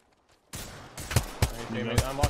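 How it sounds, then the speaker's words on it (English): Gunfire in a shooter video game cracks out as a string of sharp, loud shots in an uneven rhythm, mixed in with other game sounds and brief talk. "I'm shooting at the spiders over here"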